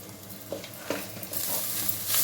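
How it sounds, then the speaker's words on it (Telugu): Ginger-garlic paste frying in hot oil with red chili powder, coriander powder and garam masala, a steady close sizzle punctuated by a few soft stirring scrapes, rising slightly louder toward the end. "అల్లం వెల్లుల్లి పేస్ట్ వేగిపోయిందండి ఆయిల్లో"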